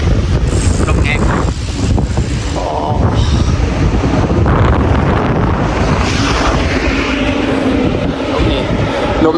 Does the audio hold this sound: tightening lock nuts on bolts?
no